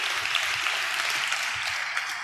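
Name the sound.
congregation clapping in praise at a church sermon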